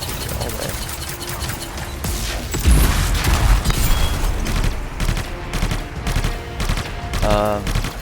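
Dense, sustained video-game gunfire from Anthem, a rapid crackling fusillade with heavy booming impacts, loud and continuous throughout.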